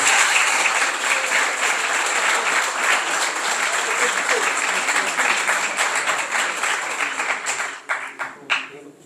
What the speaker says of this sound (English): Give him a big, big round of applause.